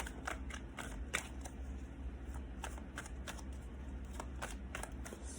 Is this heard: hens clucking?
no